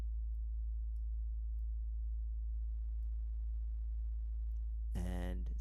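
A low, steady cinematic synth bass designed in Reaktor drones continuously and quietly, with a faint buzzy layer creeping in and a brief bright burst near the end.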